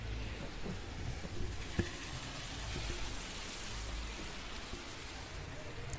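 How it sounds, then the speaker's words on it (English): Heavy rain pours steadily outdoors as a dense, continuous hiss, with a faint swell of passing road noise and one brief knock partway through; nobody speaks. "It's kind of a heavy rain today."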